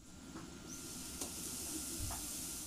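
A paste of four ground garlic cloves and six shallots sizzles in hot cooking oil, a faint, steady hiss with a few soft pops and stirring scrapes, no voices.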